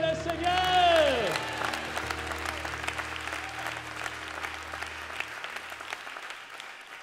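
A church congregation applauds and acclaims the Lord during a sermon: a voice rises and falls at the start, then dense clapping and cheering carries on and slowly thins out over several seconds.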